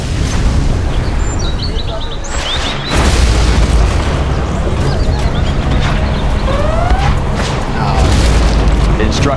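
Heavy booms and explosions from a battle in the strategy game C&C Generals, where a Tomahawk cruise missile launcher is in use, loud repeated blasts layered with unit voice lines and game chirps.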